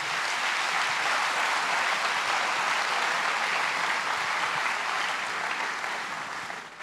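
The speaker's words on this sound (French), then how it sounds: "Clap for him." Applause from an audience: dense, steady clapping that holds throughout and tapers slightly at the end, with no talking.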